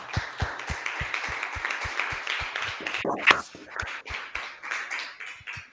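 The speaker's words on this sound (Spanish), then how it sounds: "Muchas gracias, les damos otro aplauso." Audience applause at an education and health conference panel session, a steady run of clapping hands lasting several seconds with a brief louder burst near the middle before tapering off.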